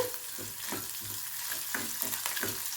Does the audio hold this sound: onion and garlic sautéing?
yes